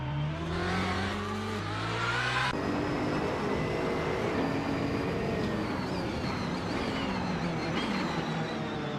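A 2017 Porsche 911 RSR race car in a racing video game revs hard, its engine note climbing through gears with a sharp shift, then settling into a loud, sustained high-revving drone as it races on.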